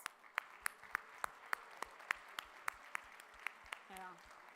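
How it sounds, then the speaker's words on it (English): Sparse, distinct claps ring out for teachers at the closing ceremony of a state gathering of English teachers, a dozen or so evenly spaced sharp hits, fairly faint, with a brief voice near the end. "Let's give these teachers a big round of applause"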